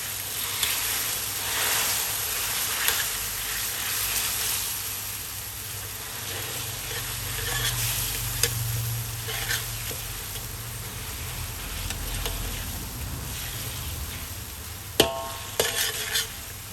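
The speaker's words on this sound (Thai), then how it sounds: "เราจะใส่หมูที่หมักเอาไว้เมื่อวานนะคะที่ทำไว้นะ เราจะใส่ลงไปค่ะ" Marinated pork dropped into a hot pan and stirred, a continuous close sizzle with scraping spatula strokes running throughout and a few sharp metallic clanks toward the end, for a fried yellow noodle dish.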